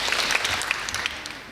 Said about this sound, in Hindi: तालियां तालियां।